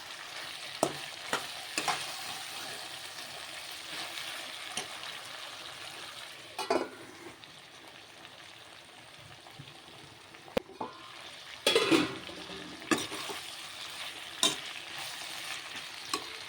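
Eggplants fry in a pan with a soft continuous sizzle, broken by several louder scraping strokes of a spoon as they are stirred at intervals.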